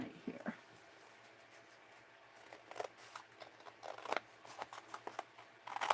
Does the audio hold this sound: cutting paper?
yes